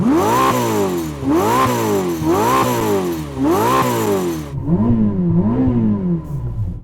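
A Ferrari SF90 sports car engine revs repeatedly, four strong rising-and-falling sweeps followed by softer, lower revs as it settles, loud and close.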